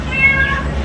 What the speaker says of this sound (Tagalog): may narinig akong pusa!